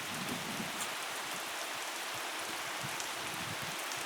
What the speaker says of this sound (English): This rain's not going off though, it's absolutely chucking it down.